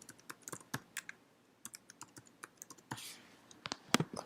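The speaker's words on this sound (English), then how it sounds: "Type in your password" Password typed on a computer keyboard: quick, irregular clicks of individual keys, close but quiet, with a short burst of rustle near the end and no talking.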